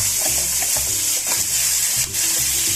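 Asafoetida and curry leaves tempered in oil for a roasted gram chutney, a close, loud sizzling hiss with quick crackles and spattering, with a dull clatter of utensil stirring underneath.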